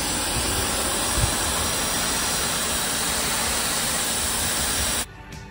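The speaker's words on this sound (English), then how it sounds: "I've got a pressure wash just finishing up." A pressure washer sprays the bottom of a hauled-out sailboat, a loud, steady broadband hiss that runs unbroken for about five seconds and then cuts off abruptly, leaving faint background noise.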